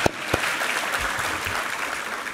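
A church congregation claps together during a Sunday worship service, a brisk crowd of hands filling the hall steadily from start to finish with a couple of sharper claps near the beginning.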